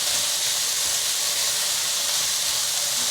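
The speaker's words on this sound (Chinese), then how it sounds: "快速翻炒" Spinach and tofu filling with steamed Job's tears being stir-fried fast in a hot wok, giving a steady, loud sizzling hiss that runs unbroken from start to finish with no talking.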